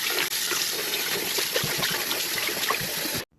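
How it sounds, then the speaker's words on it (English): Cold tap water runs steadily over oxtail meat in a sink, a close, continuous splashing stream with small irregular spatters, ending abruptly when the water stops. "always wash your meat with cold water."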